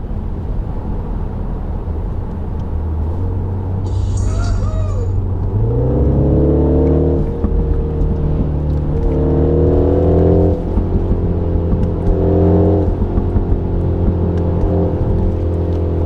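Artificial engine drone in a 2024 MINI Countryman John Cooper Works cabin in go-kart mode rises into sharper revving swells, climbing and dropping in pitch several times, loud and close.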